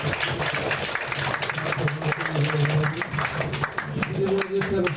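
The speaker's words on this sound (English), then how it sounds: "Let's have one round of applause for the drama group." An audience at a campus Krishna festival applauds a drama group's performance, with a few seconds of scattered, moderately loud clapping mixed with voices and background sound in the hall.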